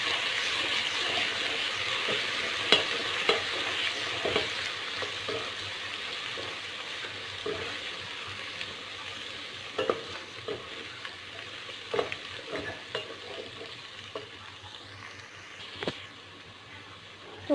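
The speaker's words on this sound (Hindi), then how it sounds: "थोड़ा सा हमने अदरक लहसुन का पेस्ट डाल के उसको फ्राई कर लिया" Ginger garlic paste sizzles steadily in ghee with browned onions, a close, continuous crackling fry with occasional stirring clicks and scrapes throughout, no voices.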